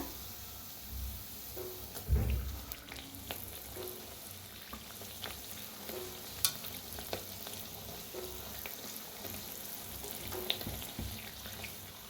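Puris fry in a pan of hot oil on a medium-low flame, giving a steady close sizzle and bubbling with a few clinks and stirring knocks throughout, no one talking.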